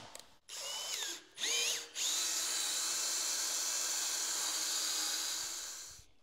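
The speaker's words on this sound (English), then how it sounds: "Chuck on this drill's wore out." A power drill with a worn-out chuck whines up to speed twice in short bursts, then runs steadily at high pitch before winding down at the end.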